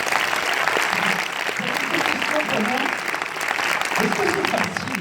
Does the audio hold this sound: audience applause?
yes